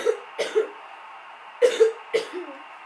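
A man coughs in a quick series of short, harsh bursts close to the microphone, pausing in between, heard alone with no talking during a Madden NFL 13 football game session.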